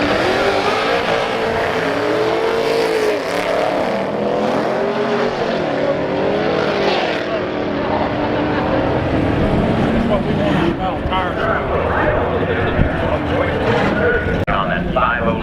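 A Ford Mustang race car roars at full throttle and climbs through the gears, its engine pitch rising and dropping with each shift, loud and continuous, with voices talking over it.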